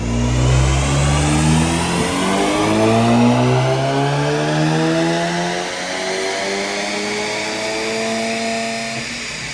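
Seat Leon tuned for over 300 horsepower revving hard on a rolling road dyno, the engine note climbing through repeated rising sweeps, loud and close, with no talk.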